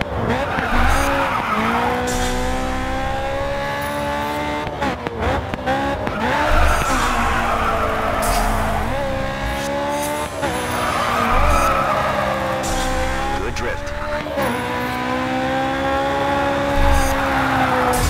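Tires squeal and skid steadily through a long drift in the Grid 2 racing game's Hong Kong drift event, with engine revs rising and falling beneath the loud, sustained screech.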